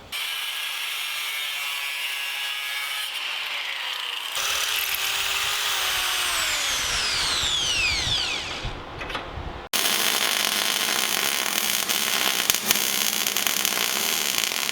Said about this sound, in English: All we really got to do is cut 2 tabs and just drill some holes and bolt it right up.